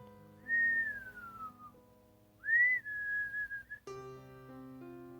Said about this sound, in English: This whistle just kept on chirping, kept on ringing out through the fog.